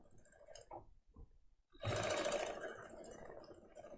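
A sewing machine doing free motion quilting starts after a few quiet soft knocks, then runs in a steady, fairly close mechanical hum with rapid needle stitching to the end.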